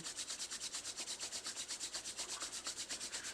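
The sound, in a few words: rubbing palms together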